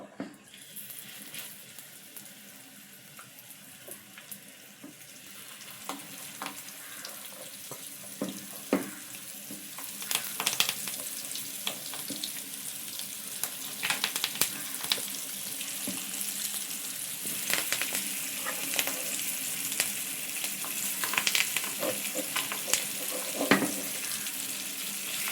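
Fish frying in oil on a flat tawa gives a soft, close sizzle that builds gradually and grows denser with scattered crackles, with no talking.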